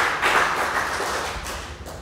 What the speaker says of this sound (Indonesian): Kasih tepuk tangan yang meriah untuk Tuhan.